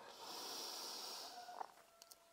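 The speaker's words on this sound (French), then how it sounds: "Expirer par la bouche bruyamment." A long, loud breath pushed out through the mouth during a yoga flow, a steady rushing exhale that fades near the end, followed by a few faint small sounds.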